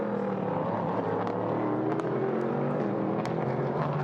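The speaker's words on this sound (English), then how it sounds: "Listen to the growl of those engines as they come out onto the tri-oval." Loud, steady roar of Prototype Cup Germany race car engines at the Lausitzring droning together at close range, with brief higher whines rising through the noise.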